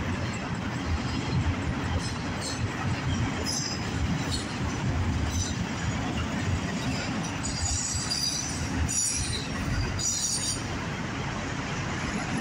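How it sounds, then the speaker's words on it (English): A CSX/NS autorack freight train rolls past close by with a continuous heavy rumble, rattling cars and occasional high wheel squeals, steady throughout with no voices. "these autorack trains have been long of late"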